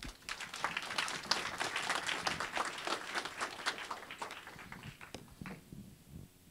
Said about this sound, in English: would love to give a round of applause to Whitney